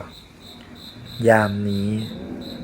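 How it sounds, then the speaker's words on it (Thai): Crickets chirp in a forest on a windy, cold day, a steady run of evenly spaced shrill pulses continuing throughout, while a voice speaks briefly over them midway. "เสียงจิ้งหรีดร้องระงม"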